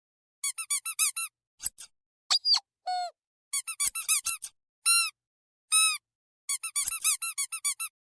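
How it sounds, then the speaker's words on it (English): Squeaky toy squeezed again and again in irregular bursts, bright shrill squeaks coming singly and in rapid clusters with silent gaps between, close and clear with no talking. "can you please quit squeaking that toy?"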